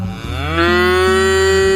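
A water buffalo gives one long, loud, close moo that holds a steady low tone, with no talk over it.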